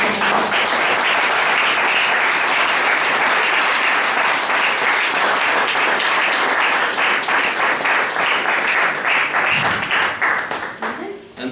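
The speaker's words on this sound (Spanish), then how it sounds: "Denle un aplauso al Señor." A church congregation applauds during a Spanish-language sermon, loud, dense clapping filling the room for about ten seconds before it thins out and fades, with a voice briefly audible near the end.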